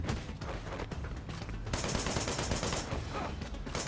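Dense rapid gunfire in the video game Wanted: Dead, a loud continuous fusillade of overlapping shots that intensifies midway, with no clear pauses.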